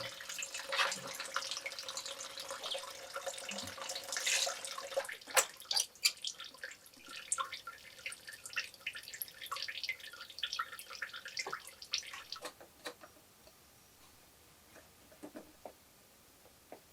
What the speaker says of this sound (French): Je vidange le radiateur